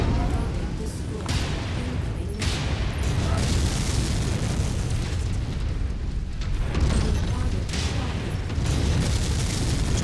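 A mech explodes in MechWarrior 5, a long, loud, rumbling boom of continuous blasts and debris under dense battle noise, with voices speaking over it.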